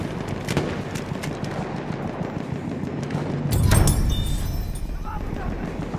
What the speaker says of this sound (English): That flare gun could really fly